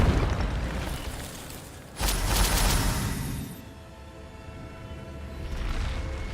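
Incendio fire spell in Hogwarts Legacy: a sudden loud whooshing blast of flame that roars for over a second, fades to a low rumble, then swells again, with no talk.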